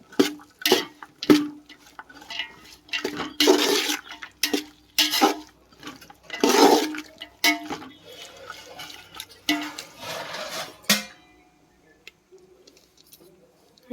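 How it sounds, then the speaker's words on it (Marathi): Water is poured into a metal pot of cooking raw jackfruit pieces for a Malvani jackfruit vegetable, with splashy liquid bursts and clattering utensil knocks close by, then a quieter stretch near the end. "त्यात आपण थोडंसं पाणी घालून घेणार आहोत"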